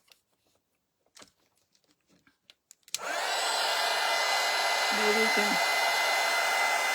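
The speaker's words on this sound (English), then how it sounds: "let me see if I can put my heat tool on this a little bit" A heat tool blowing on a spun-cotton sheep craft: after a few soft handling taps and a brief spoken word, a loud, steady whooshing blower starts up and runs continuously close by.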